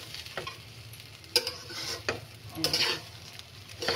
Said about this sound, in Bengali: ছ্যান ছ্যান একটা শব্দ আসছে